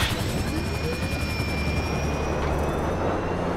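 A damaged helicopter in a video game makes a steady rotor and engine drone with a thin whine on top, loud and continuous throughout, with no voices.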